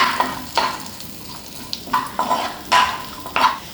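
Sliced onion and small shallots sautéed in the same oil used to fry chicken for chicken kondattam: sizzling bursts break out as a utensil stirs and scrapes the pan in irregular strokes, close and clear, with no talking.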